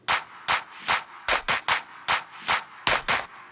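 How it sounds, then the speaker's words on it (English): A layered clap sample from a drum beat repeats sharp, bright hits alone in a steady pattern, some falling in quick doubled pairs, each with a short airy tail. "I'm going to give you guys the clap."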